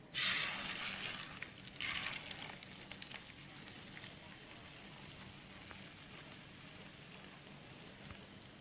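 Hissing, crackling sizzle of egg frying in hot oil for a Thai-style omelette, sharper at first and then settling into a steady, quieter bubbling.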